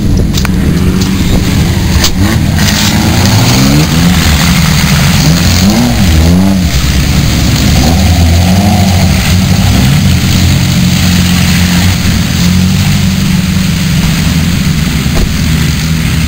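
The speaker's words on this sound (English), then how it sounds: "There's a lot of cars in this event right here." Several race cars rev hard at an ice racing event in Chetek. Loud, continuous engine roar rises and falls in pitch across many overlapping cars, close and dense for the whole stretch.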